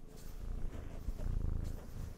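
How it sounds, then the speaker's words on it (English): A pet cat purrs loudly and steadily close by, a continuous low rumbling throb with no pauses. "He purrs so loudly."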